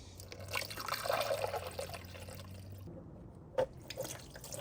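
Water trickles and drips into the coolant radiator of a Yamaha 700R ATV during a flush, with a low steady hum beneath and a sharp splash or clunk near the end.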